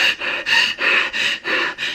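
A voice imitates heavy, rapid panting of someone in a panic attack, six loud breath bursts in a steady rhythm with short gaps, close and alone.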